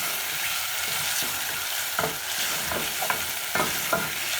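Cabbage stir fry being stirred in a pan over medium heat, a steady sizzle of frying with several sharp scraping strokes of the utensil against the pan, close and moderately loud, with no talking.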